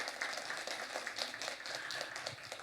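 An audience in a church lecture hall breaks into welcoming applause, with steady, moderately loud clapping in a rapid, uneven patter and no voices over it.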